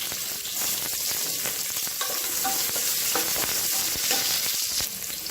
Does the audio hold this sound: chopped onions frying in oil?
yes